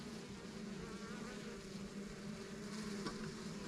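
Honey bees, mostly nurse bees, hum inside a queen-rearing cell builder hive after a little smoke. The buzz is a dense, steady drone that holds at even loudness from start to finish, close up, with no talk.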